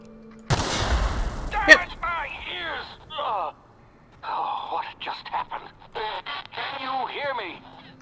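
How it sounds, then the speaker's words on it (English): A gun is fired at barrels in the video game The Outer Worlds, giving one loud, sudden blast that rings out for about a second. Talking follows and runs through the rest of the clip. "I guess I gotta shoot the barrels."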